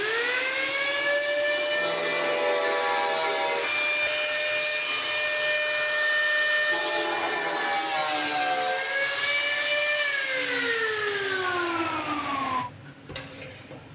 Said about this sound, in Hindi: अब हैंड ग्राइंडर लूँगा और जो मार्किंग किया है उसको मैं काट दूंगा